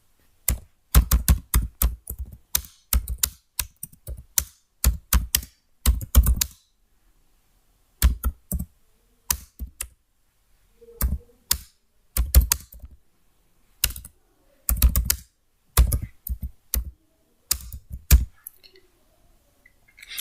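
Bursts of rapid computer keyboard typing at a Linux terminal, close and crisp, coming in irregular clusters of keystrokes separated by short pauses, with no talk over it.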